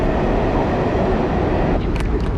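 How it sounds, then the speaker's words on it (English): A subway train roaring underground beneath a New York City street, a loud continuous low rumble heard from street level, steady throughout with faint higher noises near the end. "Hear this roar coming from down below, and it's the subway."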